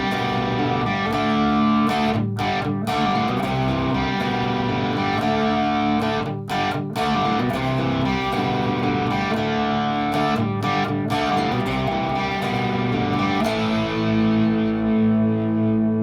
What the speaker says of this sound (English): So this is a pretty simple riff here, and again, it's got that classic rock gritty edge to it